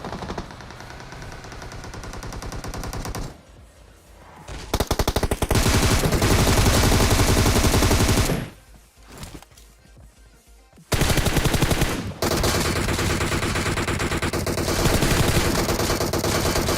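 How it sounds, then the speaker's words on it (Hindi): Bursts of rapid automatic gunfire in the battle royale game PUBG Mobile, Erangel map, loud and sustained, with short pauses between long volleys and no talk. "लेकिन भाई मेरे को फायरिंग की साउंड आते हैं तो भाई रश मारते हैं।"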